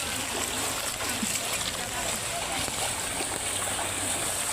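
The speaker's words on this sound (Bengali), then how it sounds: "এই দেখেন পানির স্রোত" Strong floodwater rushes across the Fulgazi road in a constant, loud, close roar of churning and splashing water, with a voice faintly present under the flow.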